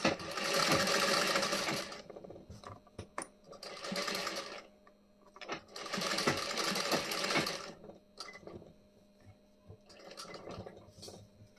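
A sewing machine stitches a blouse back neck design in bursts: long runs of fast mechanical whirring broken by short pauses and brief restarts, close and fairly quiet.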